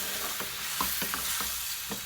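A spoon stirs pineapple habanero sauce with pineapple pieces in a pan, giving soft repeated scraping strokes, five or six in two seconds, over a steady low sizzle.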